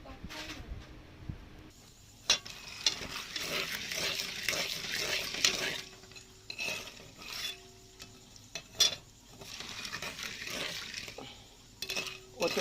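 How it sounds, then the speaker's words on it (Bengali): Corn kernels fry for popcorn in a pan with oil, spice, chilli powder and salt, giving a steady hissing sizzle broken by sharp scraping and stirring clatters, close by and fairly quiet. "এখন এই ভুট্টা ভাজবো, ভেজে খাওয়া হবে।"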